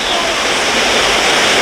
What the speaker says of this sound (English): And here's a view of the waterfall.